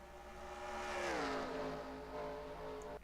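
Race trucks roar down the back stretch in NASCAR Racing 2003, a loud engine drone whose pitch swells and then drops as a truck passes close by, with no voices.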